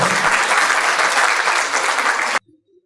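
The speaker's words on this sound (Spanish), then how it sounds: "Luego, un aplauso para David." Audience applause at an agriculture and energy conference panel is a dense, loud wash of clapping that stops abruptly, leaving a faint murmur.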